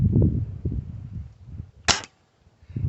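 A Hatsan spring-piston air rifle fires once, a sharp close crack standing out after low rumbling handling noise and followed by near silence.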